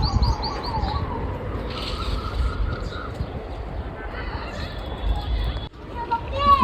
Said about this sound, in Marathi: हे बघताय चिमणी आली आपल्या